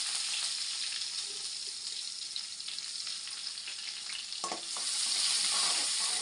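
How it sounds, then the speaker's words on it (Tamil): Sliced onions fry in oil with fennel seeds and urad dal, giving a bright, dense sizzle up close, with a brief clatter of stirring midway and the hiss swelling louder toward the end. "வெங்காயம் நல்லா வதங்கட்டும்."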